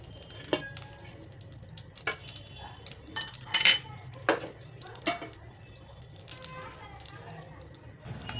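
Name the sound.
cashews and almonds frying in ghee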